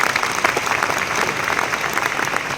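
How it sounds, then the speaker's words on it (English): An audience claps steadily throughout, a dense, continuous round of applause that fills the room without a break. "Round of applause for that."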